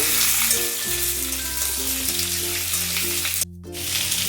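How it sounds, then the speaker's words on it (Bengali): Potato and radish pieces fry in a hot pan with a steady, close sizzle, broken briefly near the end by a short gap, then the frying carries on. "আলু আর মূলোটাকে আমি আগে একটু ভেজে নেব।"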